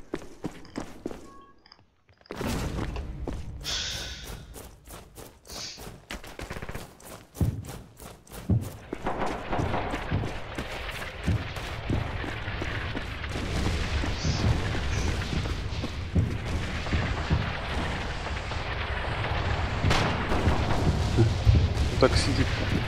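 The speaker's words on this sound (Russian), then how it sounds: "по мне стреляют." Rapid bursts of gunfire aimed at a player in a close-quarters airsoft or paintball match around barracks, sharp repeated cracks and thuds over a rising background clatter, fairly loud and continuous after a brief quiet start.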